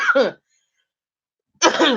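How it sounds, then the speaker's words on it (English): Two short, harsh coughs close to the microphone, separated by a stretch of silence. "you can never get rid of that cough"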